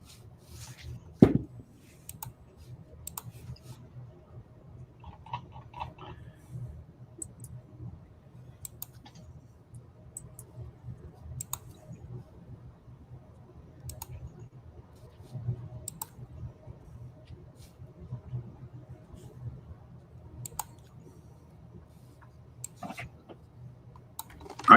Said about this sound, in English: I was typing on the wrong keyboard again.